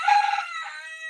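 A bird calls loudly and close, with a rooster-like crowing phrase that tails off into a fainter trailing note.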